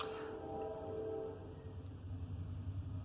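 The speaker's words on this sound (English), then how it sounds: "sorry, there's a train coming. I'm just giving it a moment to go by." A train passes nearby, starting with a loud horn blast and rumble that fades into a steady low rolling drone of railcars.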